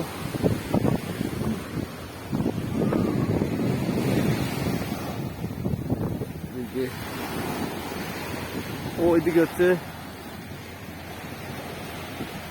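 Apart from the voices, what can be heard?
ocean waves at Kochi beach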